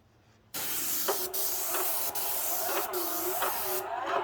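Steady, loud hiss of a Graco 695 airless paint sprayer spraying alabaster white paint continuously, with faint periodic clicks and a brief quieter moment before it starts.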